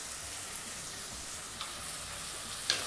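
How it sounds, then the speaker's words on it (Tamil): Capsicum sautés in a clay pot, a steady close hiss and sizzle of frying with faint occasional stirring ticks throughout. "இப்போ இதை ஒரு 2 நிமிஷம் வதக்கினா போதும்"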